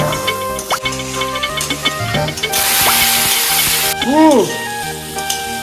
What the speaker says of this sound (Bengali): দেখিস না আলু ভাজা করতেছি।